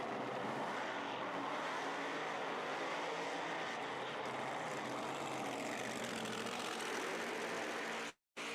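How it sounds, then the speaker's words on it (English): A methanol-fuelled supercharged altered and a nitro-burning altered at a drag strip make a steady loud engine roar and rumble that holds throughout and drops out abruptly at the end, with no talking. "Nasby over on the right side of the racetrack has got the methanol fueled supercharged altered. And on the tower side, it's a nitro burning beast."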